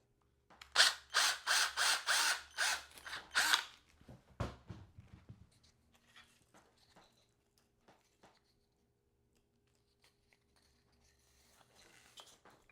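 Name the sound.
drilling mahogany wood for parrot toy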